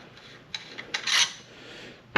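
A 17 wrench breaks loose a nut on a Race Tech damper rod held in a vise: a few sharp, close metallic clicks, then a brief scraping rasp, with quiet gaps between them.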